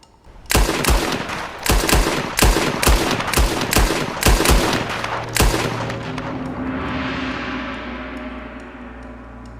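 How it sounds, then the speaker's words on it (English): A rapid volley of loud gunshots rings out in a Western-style shootout, roughly a dozen sharp blasts in quick irregular succession, then fading into a long reverberant tail and rumble. "We start shooting in 5 seconds."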